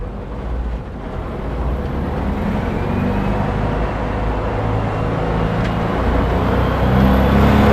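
A 1963 Volkswagen Single Cab engine idles in a continuous low rumble, fairly loud and steady, with a broad wash of road-like traffic noise around it.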